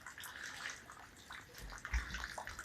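Heavy morning rain pours steadily outdoors, a faint, even hiss of falling water with occasional soft splashes and low thuds, no voices heard.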